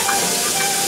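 Running water rinsing out a frying pan used for bacon, a steady broadband hiss of the stream that holds evenly from start to finish, close and fairly loud with no voices.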